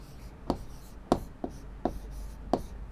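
Pen or pencil writing on paper during a Class 4 English lesson, giving five sharp separate strokes spaced irregularly over a faint steady background, close and quiet with no talking.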